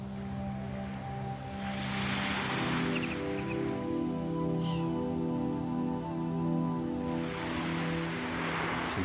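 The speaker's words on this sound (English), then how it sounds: "To hear those waves rolling in while you're doing your exercise and meditation" Ocean waves roll in at a beach in the early morning, a steady broad wash of surf rising and falling in slow swells, close and continuous with no voices.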